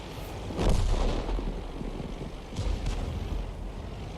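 A Hummel self-propelled artillery gun fires a round in a video game, a deep, loud boom that swells and rolls out, followed by a second, softer rumbling burst a couple of seconds later.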